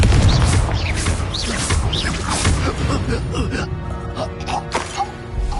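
A Confringo blasting spell explodes in Hogwarts Legacy, a run of loud booming bursts and crashing impacts packed close together over a busy, dense game soundscape.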